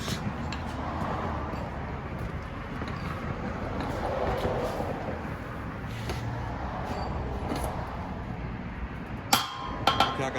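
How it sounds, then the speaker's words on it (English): A few sharp metallic hammer taps on a Predator 212 small engine part ring out near the end, after a stretch of steady low background noise. "tap the top right here with the hammer"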